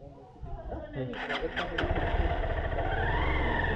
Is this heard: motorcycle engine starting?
yes